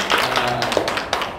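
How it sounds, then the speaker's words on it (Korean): Audience clapping after a call for applause at an agricultural meeting, a brief burst of hand claps with a tapping, scattered quality, fairly close and steady for over a second. "박수를 해주세요"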